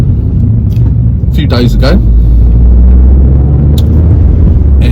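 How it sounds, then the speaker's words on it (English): Abarth Turismo running on the road, a constant loud low engine and road rumble underneath someone talking throughout. "I am now driving the Abarth"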